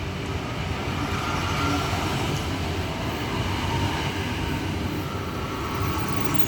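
Eight-car suburban electric train slowing to a stop at a station platform on the Hurstville–Penshurst line, a steady loud rumble of wheels and rails running throughout with no voices over it.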